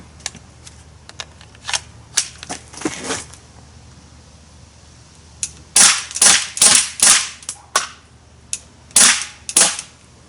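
An Umarex XBG CO2 BB pistol fires a series of sharp, close pops, several scattered shots followed by a quicker cluster of cracks, with faint mechanical clicks between them.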